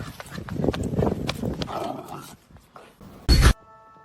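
A dog makes short yelps and snuffling sounds mixed with clicking and scuffling, then lets out one sharp, loud bark near the end before falling quiet.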